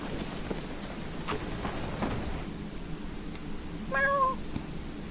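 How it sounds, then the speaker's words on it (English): A cat gives a single short meow, clear above a steady wash of rain with faint distant rumbles. "He definitely meows back at cats."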